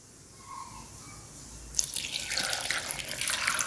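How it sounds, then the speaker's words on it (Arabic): Water pours into a blender jar holding beetroot and apple pieces, a bright, splashing stream that starts suddenly after a quiet pause and keeps going. "دابا غادي ندير الماء"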